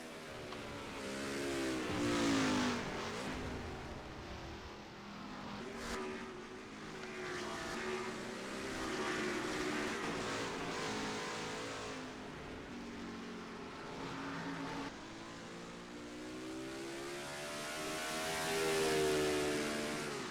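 Race cars circle the Charlotte Roval in a racing video game, their engines droning and rising in pitch as they accelerate. The sound is steady, layered and fairly quiet, with no talking over it.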